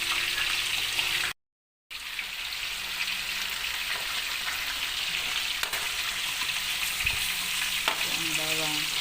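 Pork frying golden brown in a pan as garlic goes in, a steady loud sizzle that drops out for a moment and then resumes, with occasional light clinks near the end.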